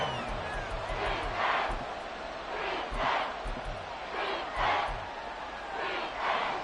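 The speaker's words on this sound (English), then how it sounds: "The Arrowhead crowd in full roar." Arrowhead Stadium crowd roaring at a Kansas City Chiefs football game, a dense, loud wall of cheering that swells in repeated surges and never drops away.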